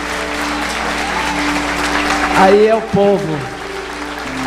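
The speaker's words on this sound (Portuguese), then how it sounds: "Um aplauso ao Senhor" Congregation applauding inside a church service, a steady broadband clapping wash held under sustained music tones, with a voice briefly speaking over it.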